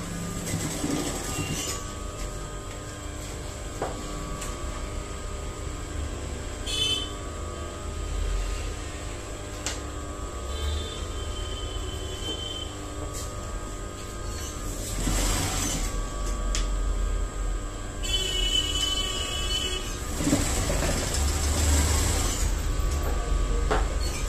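A sewing machine stitches a blouse seam, running in a steady, continuous mechanical whir with rhythmic clatter and brief squeaky accents, close and fairly loud throughout.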